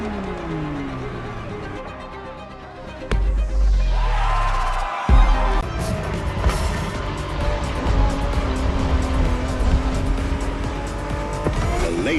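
A Ferrari in the racing game The Crew Motorfest revs hard and accelerates, its engine note rising and shifting through gears, with tire squeal and a sharp burst partway through, loud and close.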